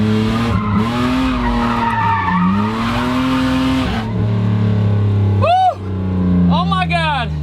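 BMW E36 drifting with loud, sustained tire squeal and skidding over a revving engine, pitch sweeping up and down through long slides, followed by shorter squealing bursts.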